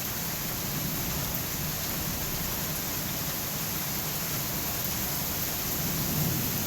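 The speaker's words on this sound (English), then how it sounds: "As much rain as we've got though." Heavy rain pours outdoors during severe weather, a steady dense hiss with a low rumble beneath it and no pauses, constant and moderately loud, with no talking.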